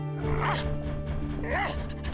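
Buster, a firefighter dog in an animated Transformers: Rescue Bots episode, gives two short whimpering yips close up over a steady background music drone.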